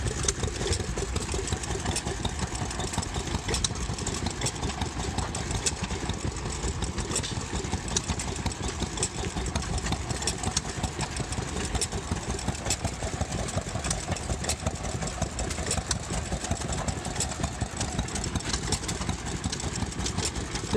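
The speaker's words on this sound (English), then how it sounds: "self-C, self-oiling 3-horsepower engine, serial number 871457" An antique self-oiling 3-horsepower stationary engine runs steadily at an engine show, its rapid even chuffing and mechanical clatter continuing without a break throughout.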